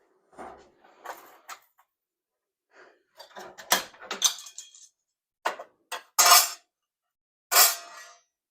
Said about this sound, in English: these fine lines I'm going to cut out with the shear,